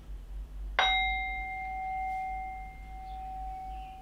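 Antique-style singing bowl struck once with a mallet, a bright clanging strike that settles into a pure, sustained ringing tone, slowly fading and heard alone in a quiet room.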